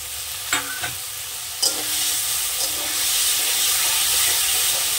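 Tomatoes and green chillies sizzle steadily in a frying pan for a curry of maya fish in mustard and poppy seed paste, with a few brief utensil clinks early on over a constant broadband hiss.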